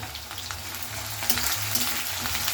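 Chopped onion dropped into hot oil for a cauliflower and potato dish, sizzling with a dense, continuous close hiss that swells slightly as it goes on.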